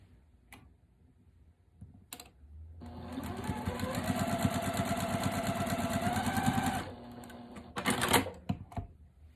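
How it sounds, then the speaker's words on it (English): A sewing machine runs steadily for about four seconds, stitching right sides of cotton quilt fabric together along a bias edge. The close, even motor whir comes between quieter handling noises. "we are gonna sew along this bias edge"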